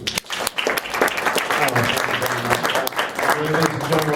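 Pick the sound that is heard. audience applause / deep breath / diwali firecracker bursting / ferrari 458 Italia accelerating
audience applause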